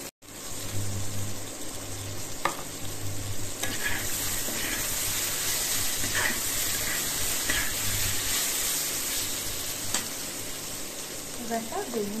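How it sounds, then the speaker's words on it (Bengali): Green chili and turmeric sizzle in hot oil while a utensil stirs and scrapes the pan, a loud, steady frying hiss heard up close throughout. "একটু ভাজা ভাজা করে নেব।"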